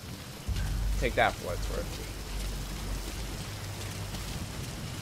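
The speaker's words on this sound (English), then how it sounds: "I like how they're actually reacting to the rain." Rain falling in the video game Metal Gear Solid 5, a steady hiss of broadband patter under someone talking briefly.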